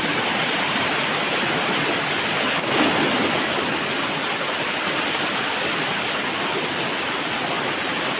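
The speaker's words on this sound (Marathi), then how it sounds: "बघा या साईडला धबधबा आहे आणि या साईडला पण छोटाच आहे आणि पाणी सर्व खाली जातं असतात" A small jungle waterfall in the Konkan during the rainy season, its water pouring down in a steady, close, broadband rush that holds constant throughout with no voices.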